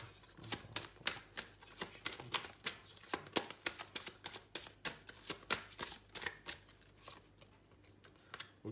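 Tarot cards are shuffled and drawn by hand, a close, quiet run of rapid papery flicks and riffling snaps in an uneven rhythm, with no voice over them.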